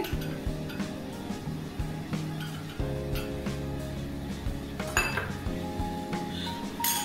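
Metal bowls being handled and set down on a counter while being brushed with white oil, giving close clinks and knocks against a low steady background hum, with no one talking.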